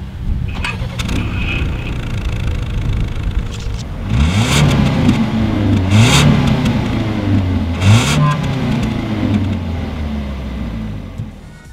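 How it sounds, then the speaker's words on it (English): A 2019 Ford Edge engine revs repeatedly through its exhaust, rising and falling in several strong pulls over a steady idle, loud and close. "As always, here is that exhaust clip."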